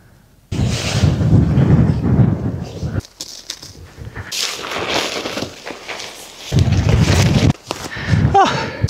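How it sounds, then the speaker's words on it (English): High winds on a mountainside during a wild camp, heavy roaring gusts buffeting the microphone in bursts that surge and drop, close and loud, with brief quieter gaps. "the wind is coming down that way"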